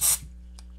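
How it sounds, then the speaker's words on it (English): A short burst of flux cleaner sprayed onto circuit boards, a single hissing puff lasting a fraction of a second, then fading into a quiet electrical hum. "We're just going to give the boards a little spray."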